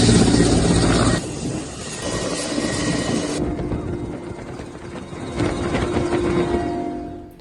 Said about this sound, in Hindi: रेस्क्यू के लिए हेलीकॉप्टर्स लगाए गए हैं